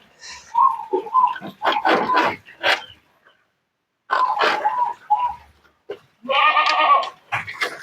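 A restless, struggling goat bleats loudly in repeated bursts, close by, with short pauses between the cries and no one speaking.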